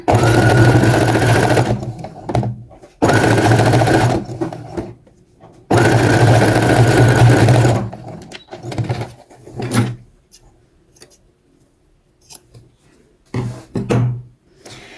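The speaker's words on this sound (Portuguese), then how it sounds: "Agora, eu vou colocar o viés em cima, passar uma costura." Bursts of a sewing machine stitching bias binding onto a luxury butterfly romper, three long loud runs separated by short pauses and quieter handling of fabric, with no talking.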